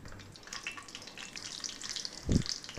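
Mustard seeds spluttering in hot oil in a pan on the stove, the first step of a ripe chilli curry. Soft crackles and pops sound close by, with one louder thump near the end.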